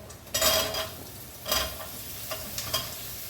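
Potatoes and onion sizzle in a hot pan while a utensil stirs and scrapes in a few bursts, the frying hiss rising and fading with each stir.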